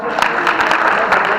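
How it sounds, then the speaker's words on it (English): Classroom audience of teachers claps in a brief, loud burst of dense applause, close and continuous with no talk over it. "give her a round of applause"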